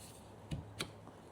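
Two small, sharp pops about a quarter second apart as a wiper blade clip comes off a Toyota RAV4 wiper arm, close by, in an otherwise quiet setting.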